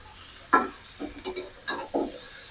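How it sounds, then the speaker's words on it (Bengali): Pointed gourd and prawns are sautéed in a pan, heard as five or so separate scraping, stirring strokes at a steady, close pace over a low background sizzle. "ভালো করে কষিয়ে নিতে হবে।"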